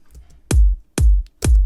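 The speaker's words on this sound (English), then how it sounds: "Just a simple kick, nothing really special about the kick." Three deep, punchy kick drum hits from a simple Splice sample thump in a steady rhythm, each booming low with a short decay, isolated and loud.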